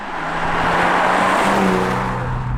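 A car with a BMW B58 engine runs with a loud, steady, close droning hum, and its tone rises slightly toward the end.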